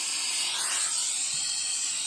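A vacuum brake bleeder on a Kawasaki Z900 rear brake hisses steadily and evenly, close and continuous for about two seconds, with no talking.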